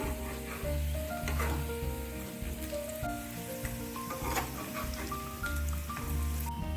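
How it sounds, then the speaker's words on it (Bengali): Fig fritters made with gram flour fry in a pan, giving a continuous crackling sizzle with occasional sharper pops and a faint tonal hum underneath. "এবার বড়াগুলোর উল্টো দিকগুলো ভেজে নেব।"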